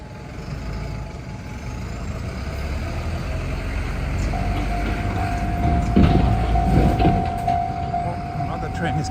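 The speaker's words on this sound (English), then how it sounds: "Oh, another train is coming." A train arrives at a station on Tokyo's Chuo Line with a low rumble that builds and a sustained tone from the approaching train, joined by rattling and clanks in the middle, while voices talk nearby.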